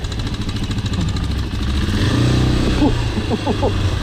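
Suzuki DR500 Dakar single-cylinder motorcycle ridden on sand, its engine thumping and revving up close while a rider's voice breaks in over the last second.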